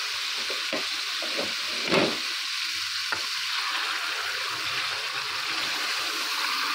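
Chicken karahi sizzles and bubbles in a pan after yogurt is added, a steady close frying hiss with a few louder stirring scrapes and clunks breaking through.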